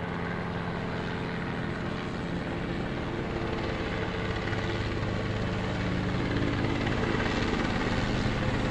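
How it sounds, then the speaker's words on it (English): A rescue helicopter drones steadily over a fire scene with a dense rotor throb that grows slightly louder toward the end, no voices. "I hear that helicopter."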